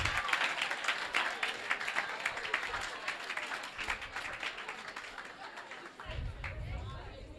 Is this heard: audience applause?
yes